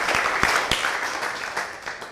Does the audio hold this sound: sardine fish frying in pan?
no